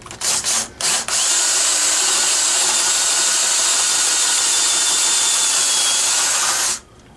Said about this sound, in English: Let's drill this one out just a skosh more to match.